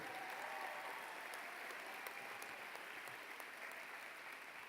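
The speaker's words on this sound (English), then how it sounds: "Give your principal a big round of applause if you would." At a high school commencement ceremony, the audience claps for the principal, a continuous, even crowd applause heard at a distance and fairly quiet, with a few sharper individual claps standing out.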